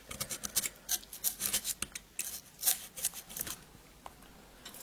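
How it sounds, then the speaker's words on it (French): Utility knife slicing through a block of expanded polystyrene, giving a run of short, close scratchy squeaks and rasping strokes that come in quick irregular bursts, then thin out toward the end. "le découpage du polystyrène expansé, c'est toujours un petit peu délicat. La scie, c'est pas mal, sinon on va tenter déjà une découpe au cutter"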